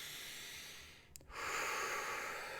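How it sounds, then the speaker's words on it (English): A single deep exhale of breath, a soft close hiss that swells after a brief pause and trails off quietly. "deep breath out"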